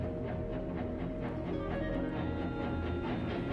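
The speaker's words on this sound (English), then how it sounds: "Yep, that's the sound of Jaws right before it attacks." Low, dense orchestral music rumbles continuously with a dark, ominous swell; no voices.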